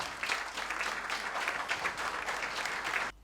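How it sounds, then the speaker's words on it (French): Audience at an awards ceremony in Yamoussoukro applauds in a dense, sustained burst of many hands clapping, steady and fairly loud until it cuts off abruptly near the end. "nos applaudissements iront chercher M. Éric Goré"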